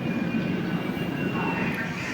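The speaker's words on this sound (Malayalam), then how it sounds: "കറക്റ്റ് 11:35 നമ്മുടെ train number 22628 Tiruchirappalli super fast intercity express train എടുത്തിരിക്കുകയാണ് കേട്ടോ" Train 22628, the Thiruchchirappalli Superfast Intercity Express, pulls away from the platform with a steady low rumble and rolling hum heard from on board, a faint voice sitting under it.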